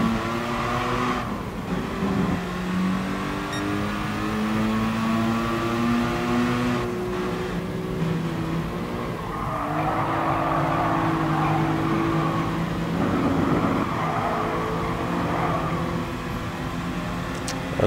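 Race cars in GT Sport howl through a pack and overtake, engines rising and falling in pitch as gears shift, several cars close together, steady and loud throughout with no talking.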